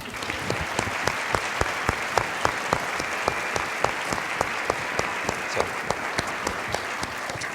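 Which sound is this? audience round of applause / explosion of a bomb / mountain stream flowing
audience round of applause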